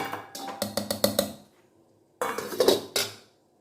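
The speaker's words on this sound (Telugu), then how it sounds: "ఇప్పుడు మనం మళ్ళీ మూత పెట్టేసుకుందాం." A metal lid is set back onto a cooking pot while making steamed vapour papad, a burst of quick clanks and rattles, a pause, then another cluster of clatter, close and clear.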